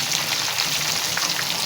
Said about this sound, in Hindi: अब इसको 5 मिनट एक साइड से फ्राई होने देते